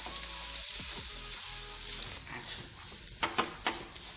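A vegetable and pepper mixture is stirred in a hot pan, its steady sizzle carrying on throughout with a few louder scraping stirs near the end, and no one speaks.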